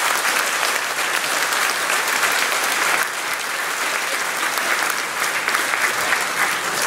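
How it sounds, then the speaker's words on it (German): Sustained applause from a large audience at the closing event of the 2018 state garden show in Burg, dense and even, clapping continuously throughout without any talking. "Nicht immer kriegt eine Landesregierung einen Applaus"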